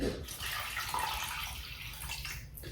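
Water pours into a bowl of cat food, a close splashing, trickling stream that runs steadily throughout at moderate volume, with faint background voices.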